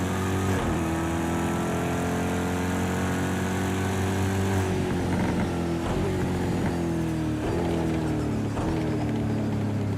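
A Corvette in Project Cars racing in the wet, the engine droning loud and steady with several quick dips and recoveries as it shifts and lifts through corners.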